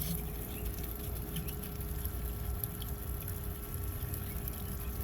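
Battery-operated Harbor Freight liquid transfer pump pours water in a steady, continuous stream, with a constant motor hum underneath and no speech.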